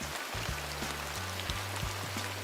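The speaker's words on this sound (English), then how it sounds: "they launched an ad that had nothing but the sound of rain hitting leaves" Rain patters on leaves in a dense, even, continuous hiss of drops, with a low steady hum running underneath.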